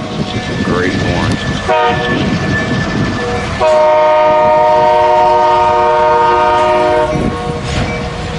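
A freight train horn sounds at Fremont, Nebraska, near street signals: a short blast, then a long sustained chord-like wail over the rumble and clatter of the passing train, loud and close.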